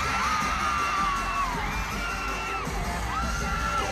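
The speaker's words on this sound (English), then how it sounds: "Everyone is screaming at this point" A large concert crowd at KCON Australia screams and cheers continuously and loudly throughout, with shrill whoops rising and falling over a dense roar of voices.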